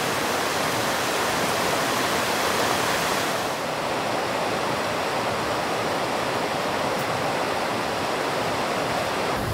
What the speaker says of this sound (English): Watching the river come by.